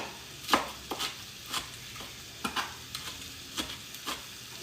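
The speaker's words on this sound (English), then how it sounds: "Give this a nice chop." A knife chops spinach leaves on a cutting board in about eight crisp, evenly spaced strokes, close and clear with no one speaking.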